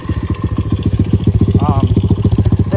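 A blue motorbike's engine idles rough and uneven, a steady loud chugging pulse with a brief higher whine partway through, close up and on its own.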